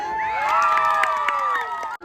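A festive nighttime crowd at a Bhogali Bihu gathering shouts and cheers together in a loud, sustained collective roar lasting about two seconds before cutting off.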